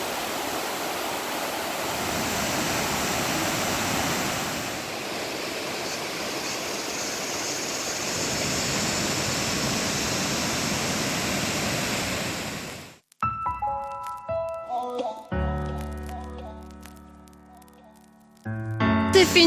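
Waterfalls at Roberto Barrio near Palenque, Mexico, in tropical jungle make a steady, loud broadband roar of falling water for about thirteen seconds before cutting abruptly to quieter, scattered sounds.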